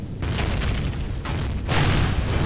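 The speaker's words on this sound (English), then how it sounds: "Oh, they're taking out my missile launchers." Explosions as enemies destroy missile launchers in the space survival game Empyrion: dense, loud booming bursts that roll into one another, with a fresh heavy blast swelling near the end.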